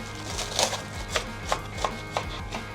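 A knife chops garlic chives on a cutting board in a steady series of sharp, close taps, about two per second.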